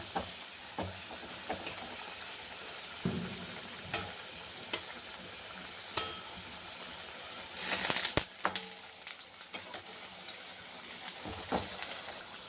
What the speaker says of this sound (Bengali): এই দেখো আলুটা ভাজা হয়ে এসছে, নামিয়ে দেবো।